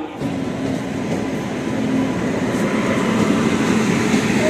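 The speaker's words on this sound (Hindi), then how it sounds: "ये रहा रेलवे स्टेशन का नज़ारा सोनपुर, काफ़ी अच्छा रेलवे स्टेशन है" A train rumbles steadily at the platform of Sonpur Junction railway station, loud and continuous with faint clatter. There is no talking.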